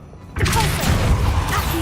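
The Descendo spell in Hogwarts Legacy is cast with a sudden loud crash and thud after a near-silent start, followed by a rumbling, clattering tail, while a voice speaks briefly.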